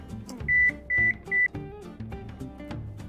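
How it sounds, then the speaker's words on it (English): An oven control panel beeps three times as the temperature is set to 350, sharp electronic tones standing clear above soft kitchen clatter and background noise. "I'm going to set our oven temperature to 350"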